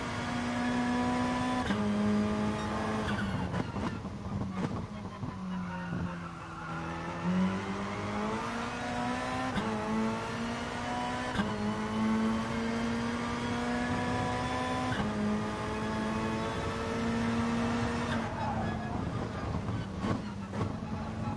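A GR3 race car lapping the Kyoto Yamagiwa circuit in a racing video game, its engine whining steadily and rising and falling through gear changes and corners for the whole stretch.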